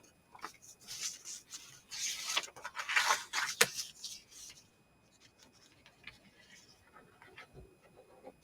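Scissors snip a paper tab off a page from a Little Golden Book, giving a few quiet, close crisp cuts and rustles in short bursts, the loudest near the middle.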